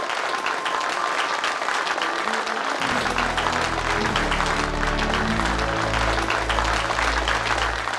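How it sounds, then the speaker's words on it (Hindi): Loud, sustained applause from a large audience at an award function, dense clapping throughout, with a low musical tone entering partway and continuing underneath. "जोरदार तालियों से इनका स्वागत किया जाए।"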